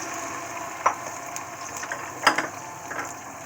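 Ground onion paste frying in hot oil with browned fenugreek seeds for a Pakistani-style fish curry, a low steady sizzle with a few sharp clicks and clatters of a utensil against the pan.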